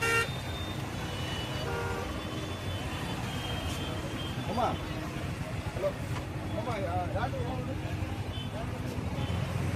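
A traffic jam near a village festival in Anantapur district, with car horns tooting among idling engines and crowd noise, a few honks standing out near and far while people talk throughout.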